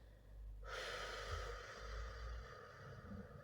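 A deep breath pushed out through the mouth, one long, close, soft rush of air that lasts several seconds, alone with no talking, during a guided relaxation exercise.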